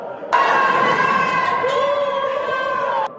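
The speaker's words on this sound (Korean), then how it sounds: "끝이 보이지 않는 태극기 물결이 탄핵 무효를 외치는 함성과 함께 광장을 흔들어" A huge crowd at a Taegukgi rally in a city square near Sejongno intersection roars and shouts together, a loud sustained chorus of voices lasting about three seconds.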